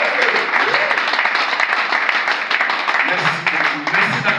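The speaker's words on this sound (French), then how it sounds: "Merci d'acclamer." A church audience applauds and cheers continuously at a revival-church gathering, a dense steady wash of clapping with voices mixed through it.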